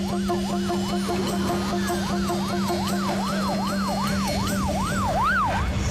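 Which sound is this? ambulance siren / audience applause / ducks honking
ambulance siren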